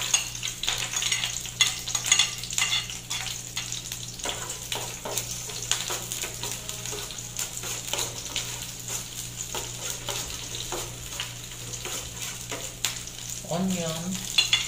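Garlic sautéing in oil in a pan for an eggplant and bangus adobo, with a steady sizzle and repeated scraping stirs. A brief high squeak comes near the end.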